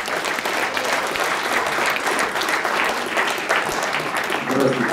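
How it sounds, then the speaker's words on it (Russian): An audience claps steadily to welcome a poet to the stage at a concert event, a close, continuous wash of applause with a voice briefly surfacing near the end. "Ваши аплодисменты."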